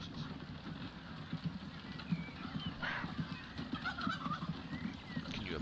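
In the Transport Fever 2 video game, horse hooves clip-clop in a steady, soft rhythm beneath a low ambient rumble, with faint bird-like calls now and then.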